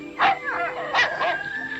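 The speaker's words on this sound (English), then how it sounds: "And a faithful dog." A dog in a 1965 western film gives a few short, close yelping barks with a whiny, whimpering edge.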